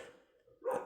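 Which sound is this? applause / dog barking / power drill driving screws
dog barking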